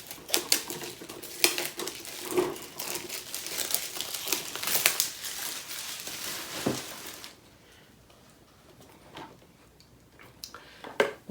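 Funko Thrilljoy PIX packaging being opened by hand, close crinkling and ticking plastic rustles with scattered sharp clicks, busy at first and then thinning into a few quiet handling noises.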